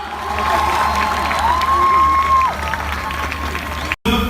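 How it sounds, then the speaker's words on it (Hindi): A crowd of students applauds and cheers at a school cricket league event in Karachi, a continuous rattle of clapping while a voice speaks over it. "तालियां नहीं रुकनी चाहिए आप लोगों की,"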